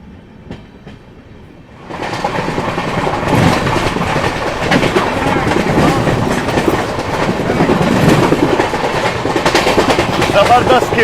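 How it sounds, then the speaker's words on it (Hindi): The Sealdah Rajdhani Express pulls out of Dhanbad Junction, a quiet interior giving way to loud, steady rumbling and rhythmic clickety-clack of wheels on rails, heard close from inside the carriage. "धनबाद जंक्शन से अपनी ट्रेन निकल रही है"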